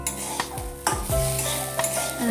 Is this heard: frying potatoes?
yes